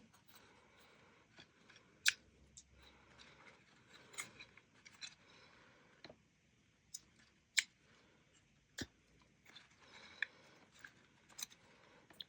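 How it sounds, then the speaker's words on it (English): Scissors snip off bulky pages from a handmade glued notebook journal, a dozen or so sharp, close clicks and cuts scattered irregularly over quiet paper handling. "So let's just cut a couple of these off."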